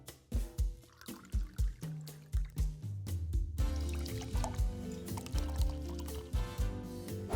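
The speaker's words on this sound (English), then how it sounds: "Now I'm gonna do 4 ounces of Clamato juice here." Four ounces of Clamato juice pours into a glass for a Michelada, starting as a rapid series of glugging drips and then settling into a steady, close, fairly loud liquid stream with no talking.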